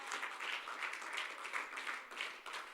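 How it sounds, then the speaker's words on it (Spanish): A church congregation applauds during a Spanish-language service, giving brief, dense clapping that swells and dips in waves. "Vamos, denle un aplauso al Señor"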